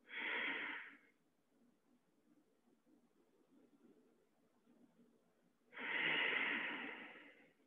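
Two long, deep breaths, loud and close, each a sustained rushing exhale during a yoga class, separated by several seconds of quiet.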